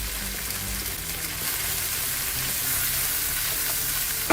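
Ginger and chopped garlic sizzle steadily in butter in a pan over a fairly high flame, with a continuous close frying hiss and occasional stirring scrapes throughout.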